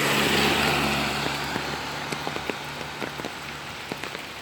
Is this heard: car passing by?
yes